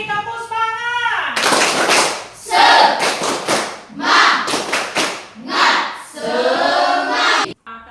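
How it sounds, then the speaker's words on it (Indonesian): Children perform the rhythmic 'tepuk semangat' spirit clap in a classroom, bursts of loud group clapping and chanting voices alternating over about eight seconds, close and energetic. "Tepuk semangat dong sekali lagi. Tepuk semangat."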